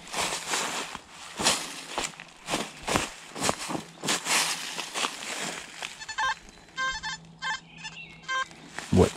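A series of short electronic beeping tones from a metal detector sounds near the end, after a stretch of rustling and shuffling noises in a forest.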